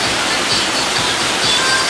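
Twin Falls in Kalayaan, Laguna, with water pouring down in a steady, broad roar, close and continuous, with a faint voice barely present.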